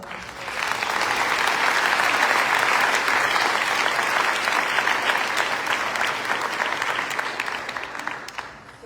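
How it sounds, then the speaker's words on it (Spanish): An audience at a cultural festival applauds an artistic performance: dense, sustained clapping that swells quickly, holds strong for several seconds, then gradually thins toward the end. "Recibamos este momento artístico con un fuerte aplauso"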